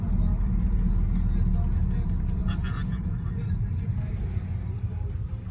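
Car driving in Tajikistan, a steady low engine and road rumble running throughout, with people talking over it.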